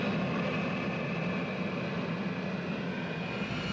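X-plane jet engine running in a hover pit with hot exhaust vented out the side, a loud continuous roaring rush with a steady high whine and no pauses.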